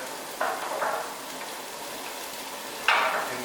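Onions and carrots dropped into hot olive oil in a pan, two bursts of crackling sizzle that flare up and settle into a steady fry, close by, no talking.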